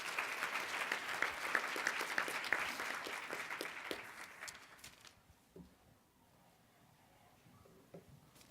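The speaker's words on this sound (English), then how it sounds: "So just a quick round of applause for our panel." An audience claps for a school-reform discussion panel, a dense, steady round of applause that fades out after about five seconds into quiet room tone.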